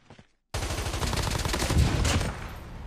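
AK-117 assault rifle in COD Mobile, a brief faint noise and short silence, then a loud sustained burst of rapid automatic fire lasting nearly two seconds before tapering off.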